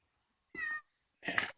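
A small cat meows twice, two clear drawn-out calls about half a second apart, close by in a quiet garage while spark plugs are changed on a 2005–2008 Toyota Sienna van.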